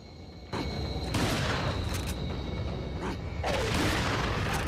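Loud gunfire bursts from Resident Evil 4 gameplay, several booming shotgun-like blasts with crunchy impacts layered over a steady game ambience, no speech.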